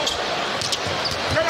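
A basketball is dribbled during an NBA game as soft, repeated bounces under busy arena crowd noise and steady commentary.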